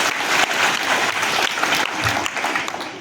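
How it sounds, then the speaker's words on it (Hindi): A street-play audience at an outdoor performance on environmental pollution claps for a child, brisk continuous applause filling the whole moment with faint voices underneath. "ये ताली बजाओ चलो इनके लिए"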